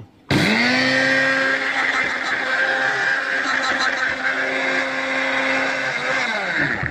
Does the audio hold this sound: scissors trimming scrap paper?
no